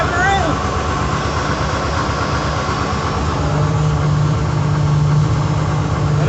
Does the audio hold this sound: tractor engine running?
yes